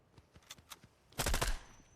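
Gunfire from a nearby fight in a battle royale video game: a few scattered single shots, then a dense, loud burst of rapid automatic fire.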